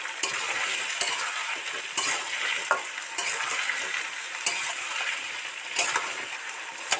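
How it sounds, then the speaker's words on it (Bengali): Chopped tomatoes and potatoes sizzle in hot oil in a pan, with a steady frying hiss broken by regular scraping clinks as a utensil stirs them, close and alone. "টমেটো কুচি দিয়ে 2 মিনিট বারো করে তেলের সাথে নাড়তে থাকবো"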